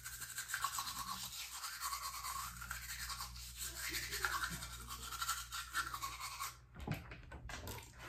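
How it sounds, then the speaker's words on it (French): A toothbrush scrubs teeth in quick, rhythmic back-and-forth strokes, close and fairly faint, continuing steadily with a brief pause near the end. "On va passer au 11e brossage."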